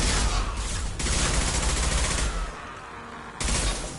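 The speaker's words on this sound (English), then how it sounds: "Firing an impact shot." Dense, loud gunfire from an impact shot in the video game Mass Effect 2, a rapid fusillade of overlapping shots that drops away briefly and then bursts in again.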